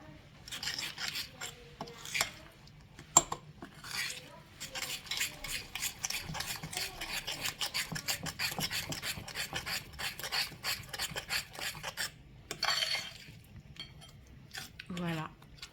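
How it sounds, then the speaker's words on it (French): Almonds being stirred into an apple tart filling, a close, continuous gritty scraping and rubbing of spoon against bowl in quick repeated strokes, pausing briefly near the end. "on va rajouter nos amandes. Et on va bien mélanger l'ensemble."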